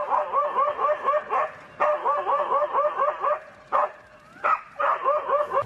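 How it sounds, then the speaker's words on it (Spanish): A stray dog confronting a leopard barks in quick, loud bursts of high yipping barks close by, with short pauses between volleys. "el perro responde a ladridos, haciendo así que el leopardo lo deje en paz y se retire"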